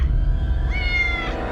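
A small kitten meows once, a rising-then-falling cry standing out near and clear over a steady low rumble of background noise.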